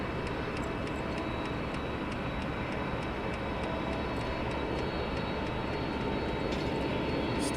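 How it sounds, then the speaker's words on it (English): Star Air cargo aircraft taxiing at East Midlands Airport, a steady broad jet engine roar with a whining hum running continuously throughout, heard from nearby on the airside apron. "Star Air taxiing towards us."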